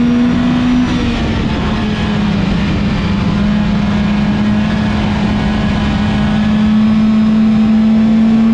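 A Hornet race car on track at Willamette Speedway during the Hornet 100, its engine droning steadily and loudly from the cockpit with a constant held pitch that dips briefly and recovers, continuous road and wind roar underneath.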